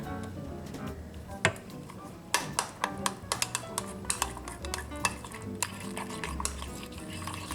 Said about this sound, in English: now we're gonna take about a 1/4 cup of the batter and add it to our apple butter and pecan mixture